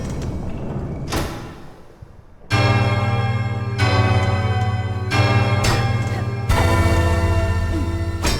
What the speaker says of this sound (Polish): Jak ten dzwon walnie, jak ten dzwon walnie.